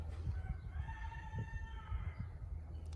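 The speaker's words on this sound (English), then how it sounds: "Woods roosters. Chickens." A rooster crows once, a drawn-out call from a moderate distance over a low background rumble.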